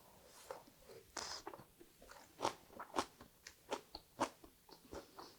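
A rolled egg omelette with lightly cooked water dropwort (minari), dipped in yuja sauce, is bitten and chewed with soft, close crunches in a steady rhythm, quiet and with no talking.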